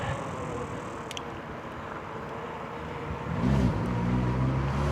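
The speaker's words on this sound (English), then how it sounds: "There's a car behind me." A car travels along a road behind someone on an e-bike, heard as a steady low rumble under wind noise, then growing louder and closer as it revs and draws near.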